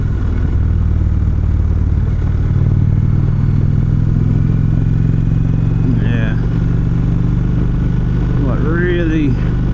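Indian Roadmaster motorcycle cruising on the road, its steady low engine drone and wind rumble continuous throughout, with a couple of brief rising whines of passing traffic near the end.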